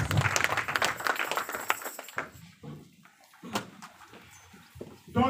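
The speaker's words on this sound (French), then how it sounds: "On acclame pour la parole de Dieu et on fait ça." A church congregation bursts into lively applause after a scripture reading, with dense clapping that thins into scattered, rhythmic claps and sparse individual hand strikes.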